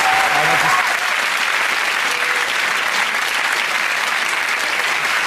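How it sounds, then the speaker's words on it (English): Steady, loud applause fills the whole stretch, dense clapping from a large TV panel show studio audience with a few faint voices mixed in at the start. "please join me in a round of applause"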